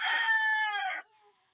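A rooster lets out a single close, loud crow lasting about a second, followed by a faint short clucking note as the sound fades.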